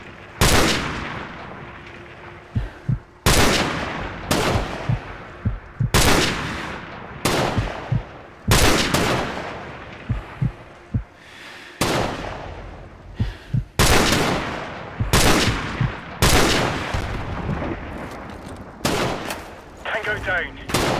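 Gunfire in Call of Duty: Modern Warfare Remastered: loud, close, heavy single shots repeat every second or two across the clip, each with a long ringing tail, with a few faint clicks in between.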